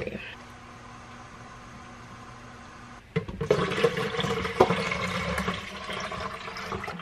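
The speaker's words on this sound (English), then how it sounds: "I need to put more water in the Keurig first." Water poured into a Keurig coffee maker's reservoir: after a few seconds of quiet room hum, a splashing, gurgling fill begins and continues unevenly to the end.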